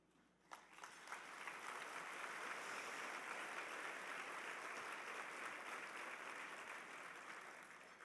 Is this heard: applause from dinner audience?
yes